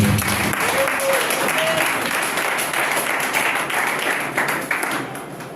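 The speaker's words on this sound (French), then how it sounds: "Est-ce qu'on peut acclamer le Seigneur?" A church congregation applauds the Lord in dense, sustained clapping that fills the hall, with scattered voices in the crowd and a brief whistle-like tone near the start.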